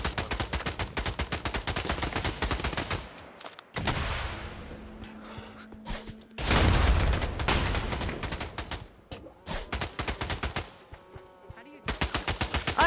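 Gunfire in the VR shooter Pavlov: loud rapid automatic bursts rattle in long strings, broken by short gaps and a few heavier blasts, with a voice coming in at moments.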